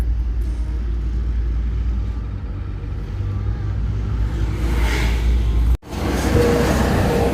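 A large truck on a Malaysian highway, a loud, steady low rumble that passes close by, with a brief dropout and then the roar resuming.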